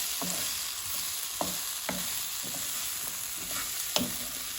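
Sage, thyme and basil sizzle and fry steadily in a pan while being stirred, with a few soft scraping knocks over the continuous hiss.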